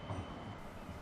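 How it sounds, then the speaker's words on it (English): A West Midlands Metro tram pulls away from the Library stop with a steady low rumble and rail hum, heard close and continuous throughout. "the tram leaves the library stop"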